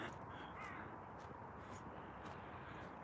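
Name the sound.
crows cawing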